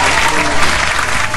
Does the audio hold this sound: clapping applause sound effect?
yes